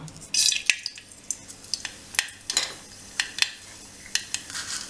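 Mustard seeds crackle and pop in hot oil while a Tamil okra tamarind curry (vendaikkai puli kuzhambu) is started, giving close, irregular sharp spits and snaps over a soft sizzle with no voices.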